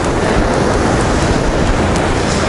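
Stormy sea surf crashing on the shore at Adler, Sochi, a continuous loud broadband roar of breaking waves mixed with gusting wind, steady and close throughout with no distinct gaps.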